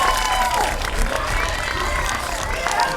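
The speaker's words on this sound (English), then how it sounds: "Crowd appreciates that pitch." Crowd at a Little League baseball game cheering and clapping after a pitch, a steady mix of claps and shouts from spectators at moderate distance, with a noisy outdoor background.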